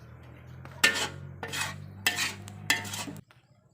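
Grated coconut stirred in a pan while frying slowly into kerisik, heard as four distinct scraping, rattling strokes of a utensil against the pan over a steady low hum, close and fairly loud, then stopping.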